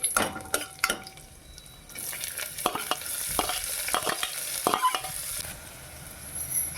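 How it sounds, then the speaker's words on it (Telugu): Fenugreek seeds, dried red chillies, onions and crushed garlic fry in a pan, a loud sizzle broken by repeated scraping and clinking of a metal spoon stirring against the pan. "వాటన్నిటిని కూడా బాగా వేయించుకోవాలి"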